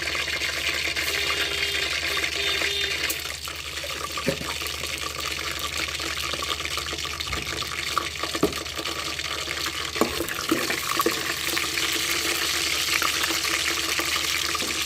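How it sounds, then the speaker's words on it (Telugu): Spices tempering in hot oil for a Telugu-style vegetable curry give a steady, loud, hissing sizzle that fills the whole stretch, with a few sharper crackles and pops and no one talking. "నేను తాలింపు వేస్తున్నాం"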